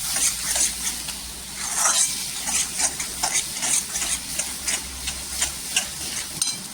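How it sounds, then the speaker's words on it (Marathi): Chilli powder, turmeric and green chillies sauté in hot oil, a steady sizzle broken by rhythmic scraping and ticking from stirring that runs throughout, close by and with no talk. "आता आहे ना छान असं तेलावर परतून घ्यायचं."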